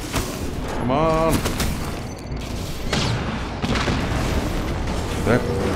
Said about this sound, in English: They're taking a lot of gunfire.